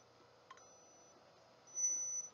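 A digital thermometer held under the arm gives a faint, thin high-pitched electronic beep in a quiet room, a brief tone near the end after a tiny click.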